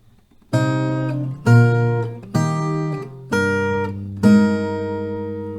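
An acoustic guitar strums five ringing chords in an unhurried progression, each left to sustain before the next change.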